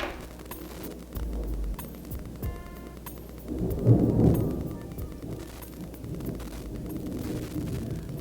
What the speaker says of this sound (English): It might start thundering and raining.